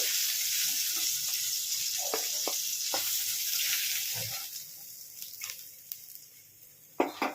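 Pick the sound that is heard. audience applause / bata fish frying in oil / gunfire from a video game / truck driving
bata fish frying in oil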